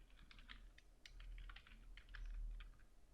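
Rapid keystrokes on a computer keyboard as a file name is typed, clustered clicks and taps in short irregular bursts over about three seconds, close and clear with no speech.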